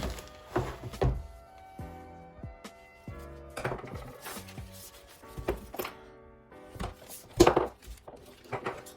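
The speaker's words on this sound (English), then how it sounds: "just cut the hose to the length of the hose that was provided" A turbo oil or coolant hose is cut to length during a single-turbo conversion on a BMW N54 engine, giving scattered close thunks, snips and handling clatter in an uneven rhythm, with no talking.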